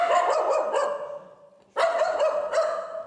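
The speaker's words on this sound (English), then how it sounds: "otherwise we're rewarding her for the barking" A dog barks in a quick run of sharp, close barks, pauses briefly, then lets out another burst of several barks.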